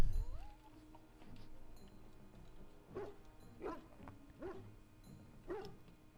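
A dog in Dragon Age: Origins at Castle Cousland gives four short whimpering barks at a moderate distance, spaced roughly evenly over a few seconds above a low ambient game background.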